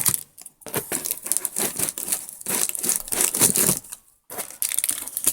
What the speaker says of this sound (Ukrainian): заклеєний він тут скотчем, який, в принципі, взагалі майже не тримається